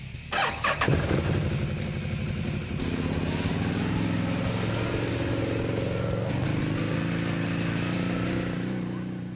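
Can-Am Outlander ATV engine rumbling steadily on a trail, opening with a sharp burst of revs before settling into a continuous, fairly close drone.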